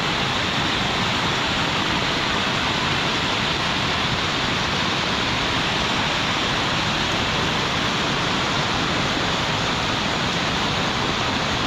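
Floodwater rushes steadily through flooded rice paddies in the Konkan countryside, a dense, continuous roar of flowing water that holds at the same level throughout, with no voices.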